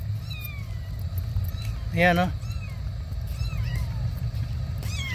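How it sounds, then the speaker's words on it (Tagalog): Hungry kittens meow outdoors, several short high cries scattered over a steady low engine-like rumble, with one louder, closer meow and a person talking nearby. "Ayan, daming kuting dito oh."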